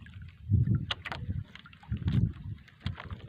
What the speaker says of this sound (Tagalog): Naririnig po ba niyo yung mga umaandar na yan bangka?